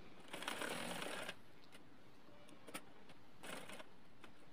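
A sewing machine stitching the remaining half of a dress sleeve, two quiet bursts of fast whirring stitching, the first about a second long and the second shorter, with soft handling clicks in between.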